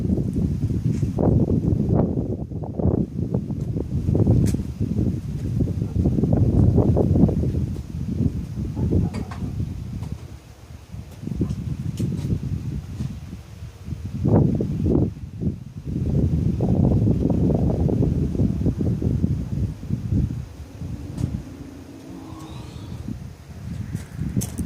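Gusty outdoor wind blows during a session of welding a cast iron swivel base. It comes as heavy, low buffeting rumbles in long surges, dipping briefly before rising again.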